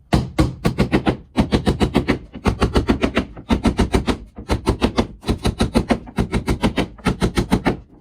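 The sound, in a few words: hammering nails rapidly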